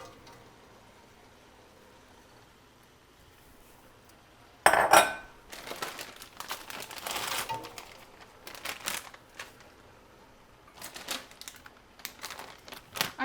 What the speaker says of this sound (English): We're going to go ahead and add all of this broccoli.